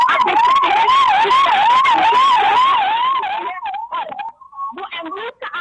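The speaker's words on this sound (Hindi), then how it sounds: "वो एम्बुलेंस का आना जाना जो है।" A loud, close ambulance siren wails, rising and falling steadily for several seconds, then fades and breaks up into choppy bursts as the vehicle passes, near an apartment roof collapse site in Sector 109, Gurugram.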